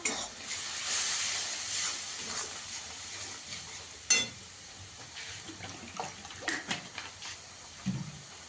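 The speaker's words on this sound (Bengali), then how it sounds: "দিয়ে ভালো করে মশলাটাকে কষিয়ে নেব।" Ground chilli, cumin and coriander powders sizzle as they are sautéed in a pan for a bhola fish tel jhal curry: a steady, soft frying hiss, with a few sharp stirring knocks and scrapes near the end and no talk.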